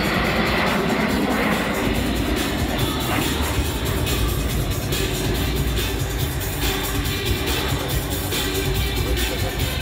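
Breitling Jet Team L-39 jets turning at an air show in Saint-Yan, a steady loud roar of jet engines overhead that holds for the whole stretch with no talk.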